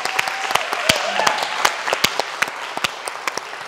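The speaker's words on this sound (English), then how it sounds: "Really quick round of applause for all of our participants." Applause for film participants at a youth film premiere and awards night, a brief crowd clapping with sharp individual claps standing out over a busy, moderately loud room wash.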